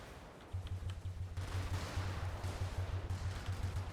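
Rapid, continuous 8mm cannon fire thumps in a steady low rhythm, with rumbling blasts and noise in a battle in the video game Brigador; no talking.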